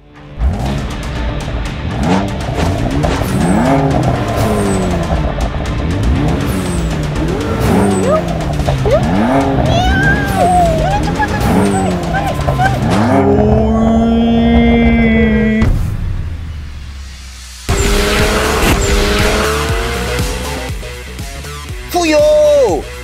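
A Volvo XC60 SUV driven hard revs through repeated rising engine pulls, with tires squealing in sustained howls toward the end, loud and close, while voices talk at times.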